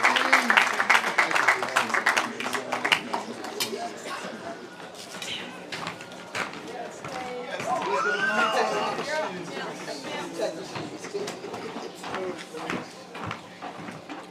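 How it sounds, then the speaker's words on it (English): A brief burst of audience applause at a school graduation ceremony on a pitch opens the clip, then fades into speech and general crowd noise that carry on for most of the clip. "Let's give Mr. Taylor another round of applause as he walks across the pitch."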